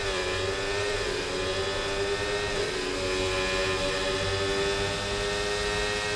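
Formula 1 car engine on a replay in the F1 24 racing game, a steady, loud high-pitched whine holding constant with a slight pitch dip partway through, alone without talk.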